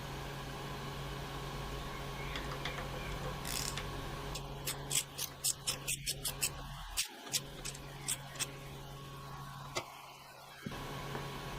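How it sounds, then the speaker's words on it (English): Small plastic caps are screwed by hand onto greased grease fittings of a mini excavator, making a run of quick, faint ratcheting clicks up close over a steady background hum. "I assume you just put it over there, screw them on like this."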